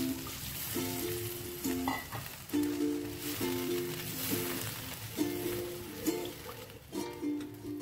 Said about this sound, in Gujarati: ત્યારે થોડી વાર માટે સાતરીશું, જેથી કરીને એની કચાશ લસણની લીલા મરચાંને આવું કચાશ દૂર થઈ જશે